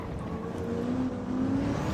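A diesel race car engine in Gran Turismo 7 drones in a low, tractor-like tone, rising slightly in pitch as it pulls steadily for a couple of seconds.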